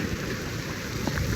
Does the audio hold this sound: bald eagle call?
no